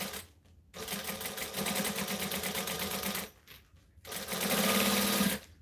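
A sewing machine runs top stitching through fabric in two long, steady bursts of rapid needle chatter, separated by a short pause and ending abruptly.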